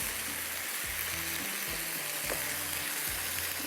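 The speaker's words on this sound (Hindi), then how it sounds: "मसाला भुनना शुरू हो गया।" Masala for seekh kabab fries in a pan with oil, a steady close sizzle broken by soft scraping stirs of a spoon, with no talking.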